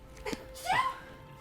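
A single sneeze sounds close by, preceded by a short intake of breath, against quiet background.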